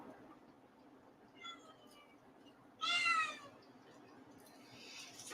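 A cat meows twice indoors, first a short soft call, then a louder, longer meow, over a low steady background hum.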